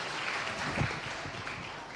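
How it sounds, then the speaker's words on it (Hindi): Steady, muffled applause from a crowd honoring women on stage at a conclave in Faridabad, heard as a continuous wash of clapping at a fairly even level. "सबसे पहले जोरदार तालियां"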